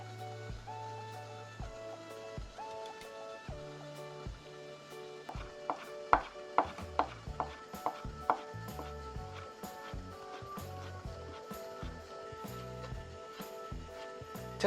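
A knife cuts shiitake mushroom caps into thin julienne strips on a cutting board, with stemmed slices cut to 0.2 cm. Quiet taps speed up into a quick run of crisp chops in the middle, over soft background music.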